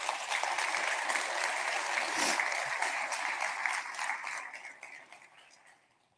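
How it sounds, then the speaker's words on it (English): An audience at an awards luncheon claps in sustained, dense applause that holds steady for several seconds and then gradually fades out. "please give a large, warm round of applause and say thank you"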